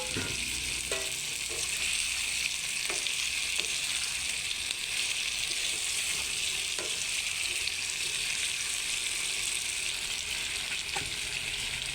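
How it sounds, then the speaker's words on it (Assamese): Cut potatoes frying in a pan for a home-cooked lunch give a steady, loud sizzle that holds throughout, with a few faint clinks of stirring and no talking. "এতিয়া ইয়াতে দি দিম মই আলুখিনি কাটি থোৱা"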